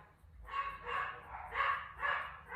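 Several dogs bark downstairs, muffled and somewhat distant, in a series of about five rhythmic bursts over a low background rumble.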